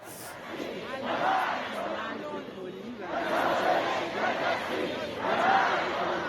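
A protest crowd in the streets of Tehran chants slogans in rising and falling waves, loud and massed, with the chanting swelling three times across the stretch.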